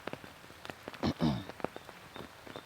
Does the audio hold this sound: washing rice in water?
no